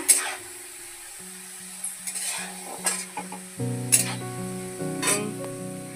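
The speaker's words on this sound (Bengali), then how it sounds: "এখানে আলু ভাজা হচ্ছে।" Potatoes sizzle in a pan with a steady hiss, while a utensil stirs and scrapes against the metal in occasional clinks.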